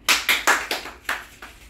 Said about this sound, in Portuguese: Agora eu vou bater 2 palmas